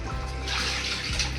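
Tap water running steadily over raw chicken being washed in a kitchen, a loud, continuous close gush with a low hum beneath.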